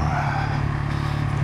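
A 2019 Husqvarna 701 SuperMoto motorcycle engine drones steadily while riding over gravel, a close, continuous low rumble with a faint rough crunch and no speech.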